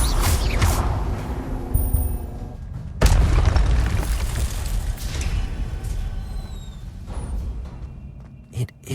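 Fire spell blasts cast in the video game Hogwarts Legacy, with booming bursts at the start and again around three seconds, then a sustained rumbling roar that fades near the end.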